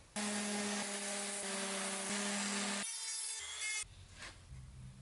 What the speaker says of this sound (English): Next step is to sand everything nice and smooth, which is what I'm going to do now.